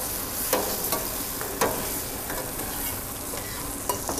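Tomato paste sizzles steadily in a hot pan as a utensil scrapes and taps the pan every so often.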